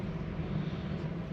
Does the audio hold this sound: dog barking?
no